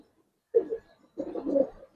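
Silver Giribaz pigeons give two close, low cooing phrases, a short one and then a longer rolling one, with quiet between them.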